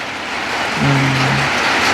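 Heavy rain pours steadily during a storm at a new house, a dense continuous hiss with a brief low tonal hum rising partway through.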